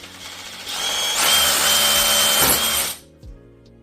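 A power drill whirs loudly for about two seconds while boring a pilot hole during a cooker hood installation, then spins down and stops, followed by a brief mechanical clunk.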